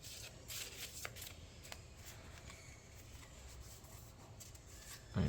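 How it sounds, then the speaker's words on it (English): Playing cards shuffled by hand for a solo fantasy tabletop game, a faint, steady riffling patter with light rustles through the quiet room and a brief louder thump at the end. "so I've just shuffled these up."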